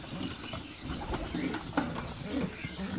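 Pigeons coo softly and repeatedly inside the nesting compartments of a pigeon loft, low murmuring calls overlapping under a steady background hum with a few brief rustles.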